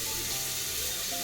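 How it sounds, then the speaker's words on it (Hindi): Homemade dalia (broken wheat) being rinsed again with water gives a continuous rushing, splashing wash, close and fairly loud, with a faint tone in the background. "एक बार थोड़ा सा और अच्छे से वॉश कर लूँ।"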